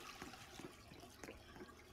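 Rushing, splashing water from waterfalls in a tropical mansion in The Sims, steady and close with small bursts throughout.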